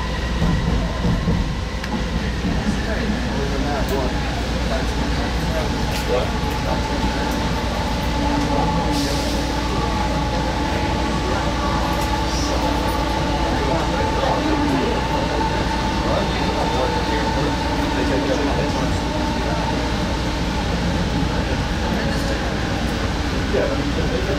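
A JFK AirTrain runs toward Howard Beach station with a steady rumble and clickety-clack of wheels on rails, heard from inside the car. An onboard announcement voice speaks over the continuous drone.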